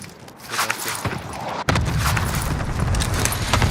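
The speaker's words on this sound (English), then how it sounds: "Tossing a frag." A frag grenade detonates in an online shooter game, a sudden heavy boom midway that leaves a dense, sustained low rumble, with faint speech-like sounds in the quieter lead-up.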